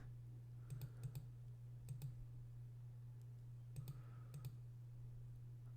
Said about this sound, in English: Don't want to accidentally go over with my enthusiastic clicking.